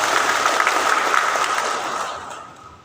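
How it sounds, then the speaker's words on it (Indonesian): An audience at an Indonesian party branch inauguration ceremony in Sukabumi, West Java, breaks into dense, even applause. The clapping holds strong, then tapers slightly toward the end. "tepuk tangan dulu"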